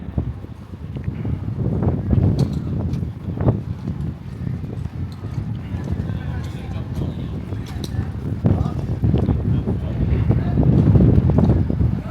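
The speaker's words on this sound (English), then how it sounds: "bit windy, but at least it's dry." Gusty wind buffets the microphone with low rumbling blasts at Butlins Bognor Regis in November, rising and falling throughout, along with faint rustling and knocks.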